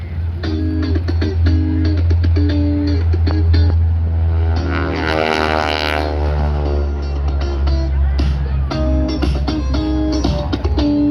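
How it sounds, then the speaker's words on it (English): A propeller plane with a 9-cylinder Pratt & Whitney engine roars past close by at an airshow, a deep engine rumble with a crackling, rasping prop-tip buzz that swells as it passes overhead, then fades. "that was the crackle sound you heard above the low rumble of the 9-cylinder Pratt &"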